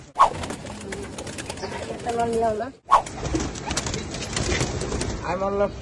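Red pigeons coo in short bursts amid a busy background, with a person talking over them at moderate loudness.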